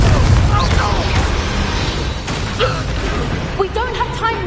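A Confringo explosive spell blasts in Hogwarts Legacy, a dense booming burst amid continuous combat noise and spoken lines.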